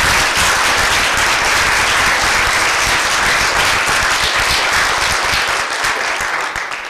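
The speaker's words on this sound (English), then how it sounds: "So we should give a round of applause." Loud, continuous applause fills a room at an MSLOC 10th anniversary gathering, many people clapping in a thick, unbroken roar that holds steady and only slightly eases at the very end.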